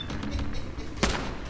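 Rapid bursts of gunfire from the Fallout 4 video game sound in quick succession, with a sharper louder shot near the end.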